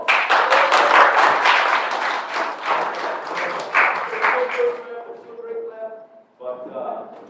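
Church congregation at a college and career night claps for about five seconds, the broadband applause thinning out as voices and talk take over near the end.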